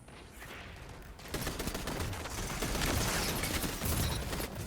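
Video game gunfire: rapid bursts of shots that grow louder and denser after the first second, continuing steadily to the end, with no talking.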